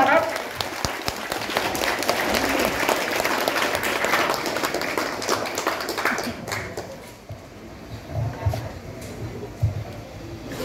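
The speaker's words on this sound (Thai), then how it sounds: "ขอเสียงปรบมือต้อนรับท่านในอำเภอประโคนชัยของเราครับ" A crowd at a community gathering in Prakhon Chai district bursts into loud, dense applause to welcome a guest; the clapping fades after about six seconds into scattered claps and murmuring voices.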